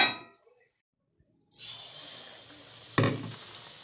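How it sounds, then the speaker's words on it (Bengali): Mixed fried rice is stirred in a pan: after a brief quiet, a soft sizzle builds, then one sharp clank of the spatula against the metal, fading into continued sizzling. "নাড়িয়ে একটু ঢেকে রাখবো।"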